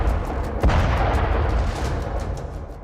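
A drone strike explosion hits a Chechen special forces university building, a single sharp deep boom followed by a long rolling low rumble that fades slowly.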